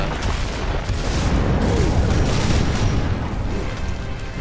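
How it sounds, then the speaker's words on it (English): In the video game Gears of War, heavy gunfire and booming blasts roar continuously and loudly in a dense, rumbling barrage without clear pauses. "Units are taking heavy fire."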